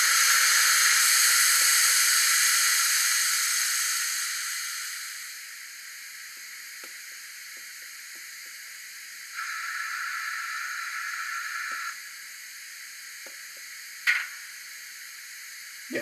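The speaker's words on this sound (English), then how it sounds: "Safety valves." Steam hiss from the safety valves of a Rapido OO gauge LNER Y7 DCC sound model locomotive, loud and steady at first, then fading away, followed by a softer hiss burst and a few faint clicks.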